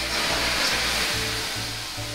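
Steam hisses steadily off hot sauna stones after a bucket of water is poured on them in a Finnish sauna in Rovaniemi, Lapland, a broad close-up rush with a low pulsing hum beneath.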